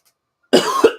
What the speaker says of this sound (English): My mouth is really dry, so apologies for the coughing.